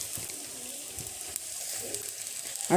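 Pakoras fry in hot mustard oil in an iron wok, giving a steady soft sizzle and crackle at close range with a few faint clinks, no talking.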